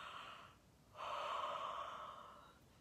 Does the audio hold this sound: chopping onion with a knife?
no